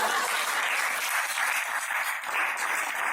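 An audience claps for dance historian Dr. Sunil Kothari, a steady, dense wash of applause filling the room without pause.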